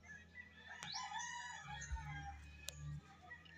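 A rooster crows nearby among a flock of chickens in a rural yard in Medellin, northern Cebu, with a single clear crowing call followed by softer clucks and a low background hum.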